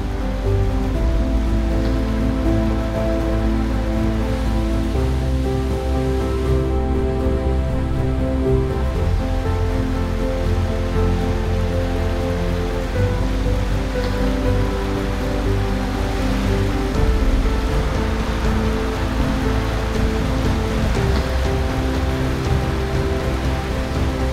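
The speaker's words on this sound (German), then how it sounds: "Der Wasserfall wird übrigens Cockbell-Wasserfall genannt." Steady rushing water from the Cockbell waterfall in Kyrgyzstan roars continuously, a dense splashing wash of falling water close by with no voices.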